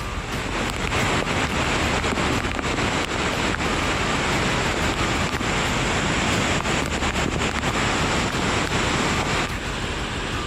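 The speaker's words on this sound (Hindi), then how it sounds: "नवादा जिले में स्थित लोकप्रिय पर्यटन स्थल ककोलत वाटरफॉल में बाढ़ जैसी भयावह स्थिति उत्पन्न हो गई" Floodwater rushes over Kakolat waterfall in Nawada after torrential rain, a dense, unbroken roar of churning water, loud and close with no voices.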